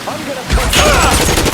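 Rapid gunfire rings out in the L.A. Noire video game, a dense close burst of overlapping shots with reverberant tails and a voice mixed in, firing until the ammunition runs out.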